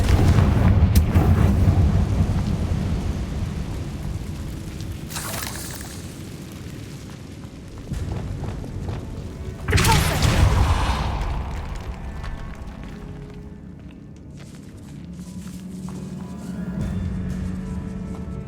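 The Confringo fire spell in the Hogwarts Legacy video game goes off with a loud booming blast, then a second burst of fiery impact that rumbles and fades, with no speech.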